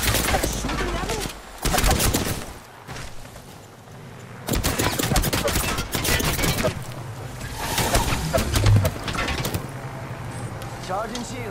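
Rapid bursts of automatic gunfire in a sci-fi shooter video game, loud and dense, with several volleys separated by brief pauses over the length of the clip.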